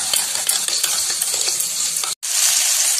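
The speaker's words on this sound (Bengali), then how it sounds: "দিয়ে ভালো করে মিক্স করে নিচ্ছি।" A spoon stirs turmeric, chili and cumin powder into a frying masala of onion, ginger, garlic and tomato in a pan, a steady close sizzle with repeated scraping strokes and a brief break near the end.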